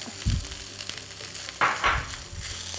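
Cantonese-style fried rice with omelette, ham and peas is stirred in a hot wok, producing a constant frying hiss broken by a low scrape near the start and two bright scraping clatters midway, close and alone.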